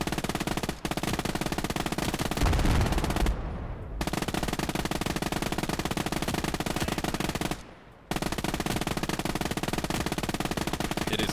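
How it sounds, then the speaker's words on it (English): Sustained machine gun fire in the World War II game Call To Arms: Gates Of Hell, loud and close, rattling almost continuously with two brief pauses between long bursts. "It is really satisfying on this game to take direct control of a machine gun"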